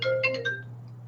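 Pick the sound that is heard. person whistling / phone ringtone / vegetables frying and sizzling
phone ringtone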